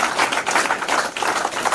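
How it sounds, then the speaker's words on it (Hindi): An audience applauds for visiting women at a leadership programme event in Mount Abu, a dense, even burst of clapping that stays loud and close throughout. "उनके लिए बस जोरदार ताली हो जाए।"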